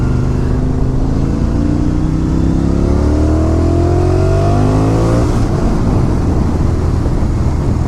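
A 2016 Motus MSTR motorcycle with a 180 hp V4 engine accelerating hard, its loud, close engine note climbing steadily through the gears over several seconds with no talk.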